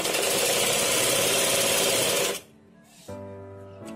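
A sewing machine stitches fabric in a loud, steady mechanical whir that cuts off abruptly partway through, leaving a quieter, lingering motor hum with no talking.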